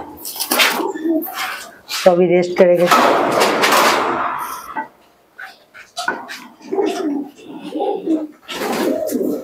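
Female Desi Giribaz pigeons cooing in a loft, low repeated coos mixed with other bird calls, with someone talking over them throughout.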